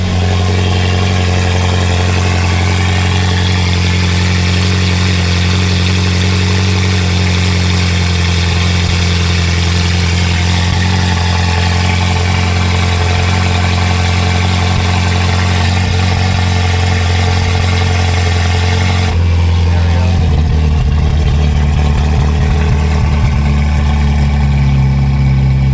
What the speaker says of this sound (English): Now we want to let it idle until it comes off of cold start and everything like that.